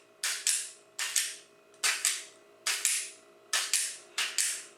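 A UST fire striker scrapes sparks onto dry, crispy leaves in about a dozen sharp, rasping strokes, mostly in quick pairs, close and clear against near silence.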